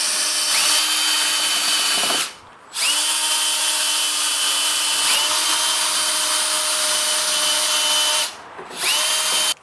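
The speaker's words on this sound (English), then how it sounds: "I'll be using a drill with a wire brush" Power drill spinning a wire brush to clean corroded battery bolts on a lawn tractor, a loud, close, high whine running steadily with two short pauses.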